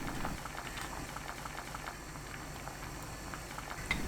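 A pot of stew with sweet potato stems, green onion and chili peppers boils on high heat, a steady soft bubbling hiss with small scattered pops.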